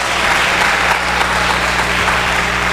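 Dense, loud, continuous applause from an evangelical church congregation, steady and full throughout without any pause.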